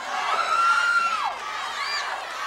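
A wrestling arena crowd shouts and chants for favorite wrestlers during a bout, with loud overlapping voices and a rising whoop.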